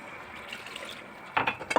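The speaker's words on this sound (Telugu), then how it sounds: "నేను ఇంకొంచెం వాటర్ యాడ్ చేస్తున్నాను ఇందులో." Water poured into a pot of cooking sambar with boiled dal, heard as a few short splashing bursts near the end after quiet kitchen background.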